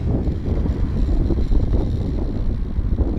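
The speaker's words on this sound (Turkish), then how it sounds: "oldukça yüksek rüzgar var" Strong wind roars steadily across the microphone at an outdoor air rifle shooting range, a dense low rumble with gusts rising and falling throughout, with no talking.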